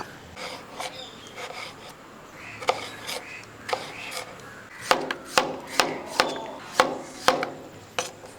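A tuber being thinly sliced with a knife on a board, sharp crisp chops coming in a quicker steady rhythm in the second half, close and fairly clear.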